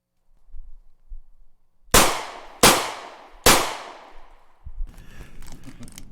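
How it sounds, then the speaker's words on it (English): Three sharp, loud gunshots ring out in quick succession, each with a decaying echo, followed by a rumbling burst of noise. "Those are the gunshots of freedom ringing out through America."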